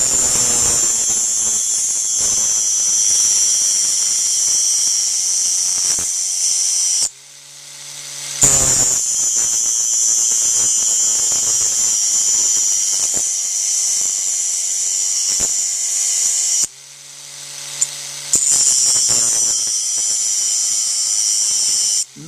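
Grinding wheel sharpening a flat drill bit, a steady high whine with short dropouts where the bit is lifted from the wheel and set back, loud and close with no talking.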